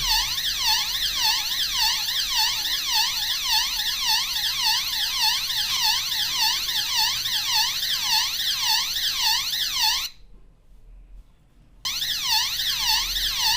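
Home security motion detector alarm siren in testing mode, a loud continuous warbling electronic wail rising and falling rapidly, cutting out briefly for about two seconds before resuming, with no voices.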